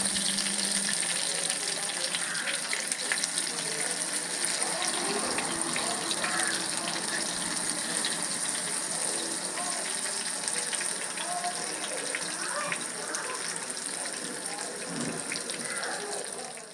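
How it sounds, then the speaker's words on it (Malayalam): Brinjal slices fry in coconut oil in a pan, a steady, dense sizzling hiss that runs throughout at moderate level, with a voice talking over it. "ഇനി നമുക്കൊന്ന് മറിച്ചിട്ട് കൊടുത്ത് മറ്റേ സൈഡും ഇതുപോലെ തന്നെ ഒന്ന് മൂപ്പിച്ചെടുക്കാം"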